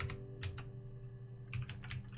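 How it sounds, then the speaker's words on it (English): Typing on a computer keyboard during a game of Her Story: a few quick bursts of close key clicks with a pause in between, over a low steady hum, no talk. "I can only type yes or no."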